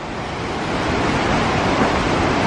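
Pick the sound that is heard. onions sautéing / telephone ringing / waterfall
waterfall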